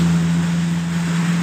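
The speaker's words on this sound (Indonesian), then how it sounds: "suara kasar yang ditimbulkan motor ini sangat keras" Honda Beat Sporty 2019 scooter engine running rough from a scratched piston after running out of oil, a loud, steady idle with a strong low drone and a harsh, grinding rattle, heard close and alone.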